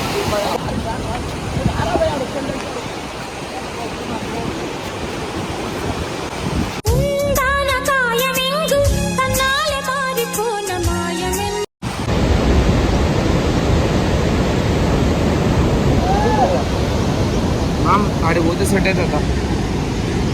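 Flowing water makes a steady rushing roar through most of the stretch, with voices talking over it and a short burst of music in the middle.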